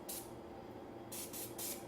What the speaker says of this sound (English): I usually use coconut oil, just coconut oil in a spray can.